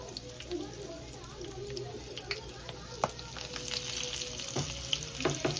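Crabs go into hot oil in a pan for a spicy Malvani crab curry, producing a steady close sizzle and crackle with scattered pops and spatters throughout.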